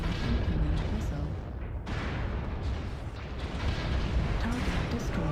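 Incoming missiles strike in the MechWarrior Online video game, a dense, continuous barrage of heavy booming impacts and rumbling explosions that stays loud and roughly even across the whole stretch, with a brief dip partway through.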